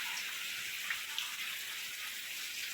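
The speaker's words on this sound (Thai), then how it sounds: "ฝน ตกตอนกลางวันอย่างนี้ไป ไหน ไม่ได้เลยเรา" Steady, faint hiss of rain falling, even and unbroken, with a few soft droplet ticks and no voices.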